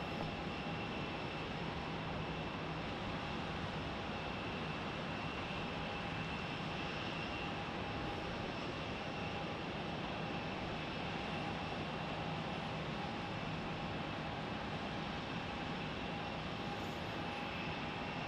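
An aircraft engine holds a loud, constant drone while taxiing toward the runway at Salt Lake City airport at night, with a broad rumble and a steady high whine throughout and no voices.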